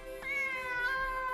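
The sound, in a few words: cat meowing, from the anime Demon Slayer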